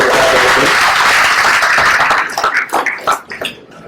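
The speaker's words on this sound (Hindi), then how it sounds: "एक जोरदार तालियां उनके लिए" Loud, dense audience applause at a Mumbai anti-tobacco police station campaign event honoring actor Vivek Oberoi, a sustained wash of clapping that thins into scattered individual claps toward the end.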